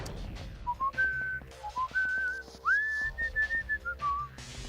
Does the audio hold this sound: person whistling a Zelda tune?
yes